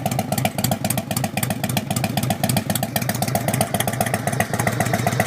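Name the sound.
1997 Harley Davidson Road King engine low rumble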